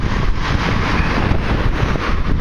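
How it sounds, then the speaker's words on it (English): Strong wind buffets the microphone on an open beach, a continuous loud rumbling roar with gusty surges and a hiss of surf or spray underneath, no voices. "I had to get out of that wind."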